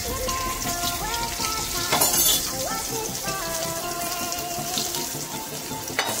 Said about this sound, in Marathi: रवा, पीठ आणि तिखट मीठ लावून फ्राय चालू आहे.